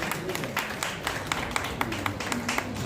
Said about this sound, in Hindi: तालियों से एक बार भाभी जी का अभिनंदन